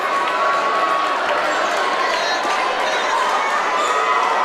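A basketball crowd at the Willie Akers Classic tournament fills the space with constant loud cheering, shouting and chatter, a dense roar that never lets up.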